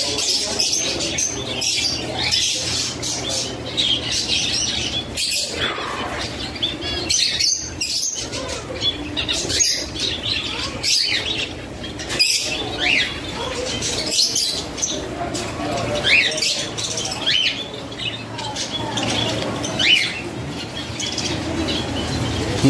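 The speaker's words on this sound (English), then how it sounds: "Get out here and check the birds out." Birds chirp and squawk nonstop among vendor animals at a busy Florida farmer's flea market, with scattered nearby cries over a dense, noisy crowd background.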